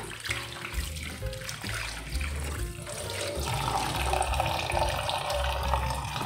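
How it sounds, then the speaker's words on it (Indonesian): Water running and draining while milkfish is rinsed in a kitchen, a steady splashing flow with gurgling that continues throughout at moderate level. "Kalau sudah 5 menit kita buang airnya. Bilas sekali lagi biar tidak asam."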